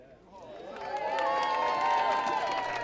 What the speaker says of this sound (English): These were just some of the applauds given to the University of Lincoln Rowing Club at the Lincoln Head race on Sunday.